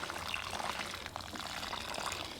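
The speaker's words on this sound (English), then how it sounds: "Or maybe water each layer a little bit as I go" Water poured onto potting soil while planting herbs makes a soft, steady trickling close by, faint and continuous throughout.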